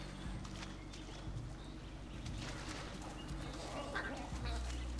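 Horses' hooves clop along in the video game Far Cry 6, a soft, continuous patter of trotting mixed with faint bird calls and quiet ambient game sound.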